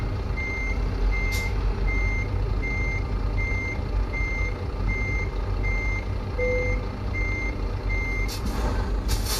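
A truck in Euro Truck Simulator 2 backs up with a steady, evenly spaced series of reversing beeps over a loud diesel rumble, and short air-brake hisses sound near the start and end.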